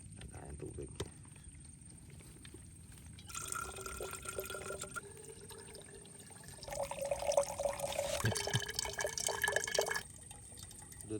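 Spring water at a campsite on El Doble Farm, Mt. Calibungan in Zambales, trickles and pours in a soft, uneven stream with drips, swelling louder midway before easing back.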